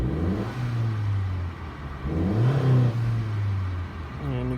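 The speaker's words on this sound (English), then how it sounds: "So we'll start the vehicle again." A 2018 Honda Civic engine starts and revs, two rising-and-falling rev swells over a steady idle hum, loud and close, with a brief third rise at the end; nobody speaks.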